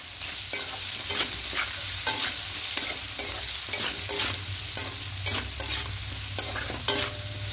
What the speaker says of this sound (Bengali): আর লবণটা দেব। দিয়ে খুব ভালো করে মিশিয়ে নেব।